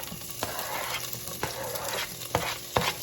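Ham and chorizo frying in a hot pan, giving a steady close sizzle with occasional sharp scrapes and clinks as the meat is stirred.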